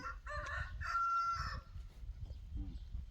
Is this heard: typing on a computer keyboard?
no